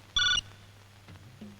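A telephone gives one short, loud electronic ring burst, followed by quiet room sounds.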